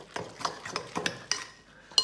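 Sticky apple cranberry bread dough being kneaded by hand on a work surface, giving close, irregular soft thumps and squelchy slaps with no talking.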